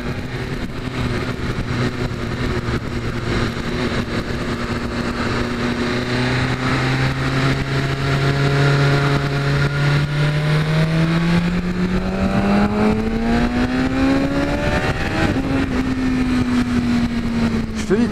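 A BMW S1000RR motorcycle engine climbs steadily through the revs on a test ride, with a strong rising whine that peaks and then drops back. Wind rush continues underneath the whole time.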